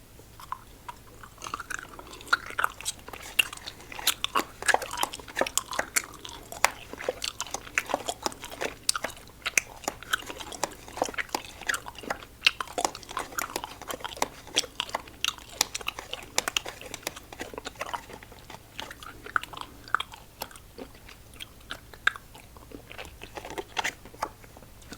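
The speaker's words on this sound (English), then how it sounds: "Surprisingly good chew and texture." Close, steady chewing of small Warheads Cubes gummy candies, with continuous wet, sticky mastication clicks and squelches in an irregular rhythm throughout, no speech.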